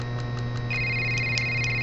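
In the video game Five Nights at Gary's, a phone rings electronically over a steady low hum, sounding as repeated short trills at moderate volume.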